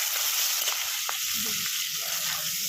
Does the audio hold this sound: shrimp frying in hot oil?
yes